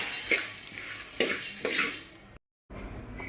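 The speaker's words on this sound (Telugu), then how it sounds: "కొంచెం మిరియాలు ఒక్క నాలుగైదు ఎండుమిరపకాయలు అన్నీ కలిపి బాగా వేగించుకోవాలి మాడకుండా" Peppercorns, fenugreek seeds and a few dried red chillies being roasted in a pan for temple-style vangi bath, with close, repeated metallic scraping and stirring clatters, a brief silent gap, then more stirring.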